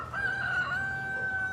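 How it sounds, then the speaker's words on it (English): A rooster crows outside a window in the morning, one sustained, strained call ringing out loud and close with a slight break partway through, over low background rumble. "this chicken comes to my window and crows like that every single morning"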